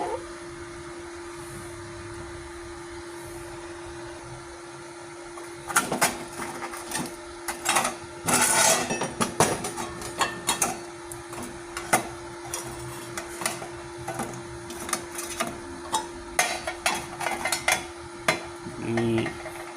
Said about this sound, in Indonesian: kita akan coba di ampere 80 di pengelasan mic